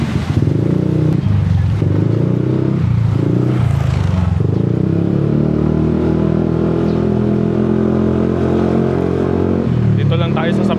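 A Yamaha NMAX V3 scooter fitted with an RS8 Redlak exhaust idles with short blips, then revs into a long rising drone close by, ending in a brief throttle drop.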